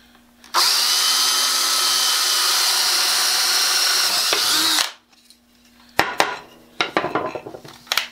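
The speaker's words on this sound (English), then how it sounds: "I'm going to drill a quarter inch hole in this piece of wood" A power drill whirs steadily for about four seconds, boring into wood, then winds down, followed by a few clattering knocks and handling noises.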